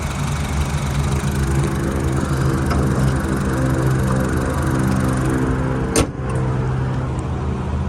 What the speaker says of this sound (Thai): เครื่องยนต์เดินนิ่มเรียบนะครับ